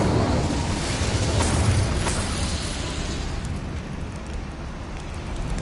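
A fire spell cast in the Hogwarts Legacy video game: a steady, broad roaring burst of flame that swells early and gradually thins out, sustained loudly throughout without voices.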